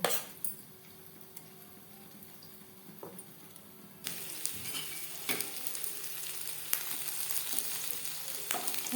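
Lentils wrapped in bottle gourd leaves fry in a covered pan over low to medium flame, a steady soft sizzle that brightens and thickens partway through, with occasional faint clinks of a utensil.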